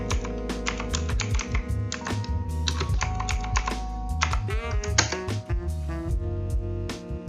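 Fingers type on a computer keyboard while configuring a Cisco router in a networking lab, a rapid, uneven run of close, crisp key clicks over a low background hum, with no talking.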